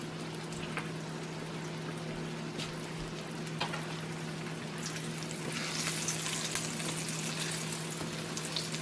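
Salmon patties frying in a pan give a continuous, even sizzle and bubbling at moderate volume, over a steady low hum, with no talking.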